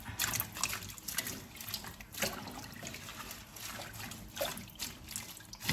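Water runs and splashes over cut vegetables being washed and left to soak for quick pickled mustard greens, a steady close trickle with small splashy bursts throughout.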